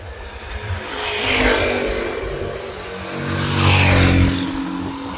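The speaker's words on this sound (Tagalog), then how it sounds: "Daming sasakyan ngayon" Cars pass by in street traffic, two broad swells of engine and tire noise rising and fading, the louder second pass close by, with no voices.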